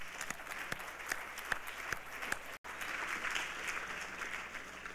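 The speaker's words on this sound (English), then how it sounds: "So could we give everybody a round of applause?" Audience applause from a public affairs gathering, a steady wash of many hands clapping with a few sharper nearby claps, broken by a momentary dropout midway, then continuing evenly.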